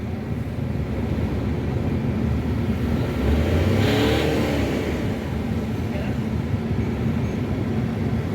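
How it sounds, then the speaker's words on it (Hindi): A Suzuki Wagon R engine with a misfire idles close by, a steady low rumble with uneven pulsing and a slight rise in revs partway through. "एक बार हम साफ़ करके लगा के चेक करते हैं और दोबारा गाड़ी स्टार्ट करते हैं।"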